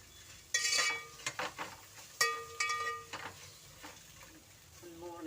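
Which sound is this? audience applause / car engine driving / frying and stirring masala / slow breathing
frying and stirring masala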